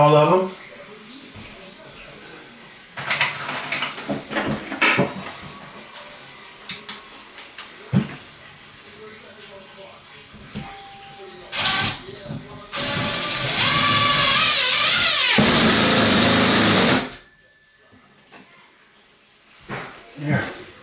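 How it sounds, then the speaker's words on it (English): A power drill drives screws into wall studs around a DIY shower pan installation, whirring in short bursts with gaps between, then running steadily for a long stretch near the end, with a person talking between the bursts. "let's put some screws in here"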